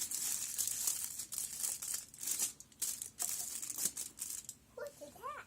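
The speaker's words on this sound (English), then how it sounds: "I'm going to actually put the aluminum foil around the top of the ball here." Sheet of aluminum foil crinkled and crumpled by hand around the top of a plasma ball, a close, continuous crackling rustle in irregular bursts, with a short voiced sound near the end.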